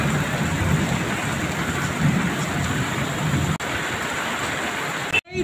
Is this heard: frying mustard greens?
no